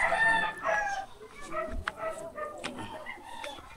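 Chickens clucking with a rooster crowing among them, a few calls close by, several birds vocalizing in overlapping bursts while people chat nearby.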